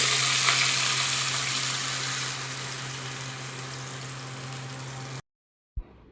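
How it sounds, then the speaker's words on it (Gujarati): Semolina batter for Gujarati handvo poured into a hot oil tempering of curry leaves, cumin and asafoetida, with a loud, dense sizzle that slowly eases, then an abrupt cut to silence and a single brief knock. "સોજીના બેટરને આપણે વઘારમાં ઉમેરી દઈશું"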